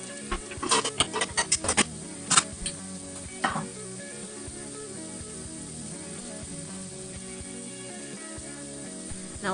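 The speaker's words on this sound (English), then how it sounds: "Let your veg saute for a few minutes." Vegetables for a butterbean and carrot dish sauté in a pan over medium heat with a steady soft sizzle and a cluster of sharp stirring clicks and taps early on.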